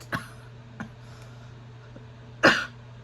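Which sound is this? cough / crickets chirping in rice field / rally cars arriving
cough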